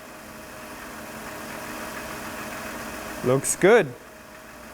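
A Chrysler car engine idling steadily with its hood open during oil pressure switch work, a low even hum running throughout, with a brief spoken remark near the end.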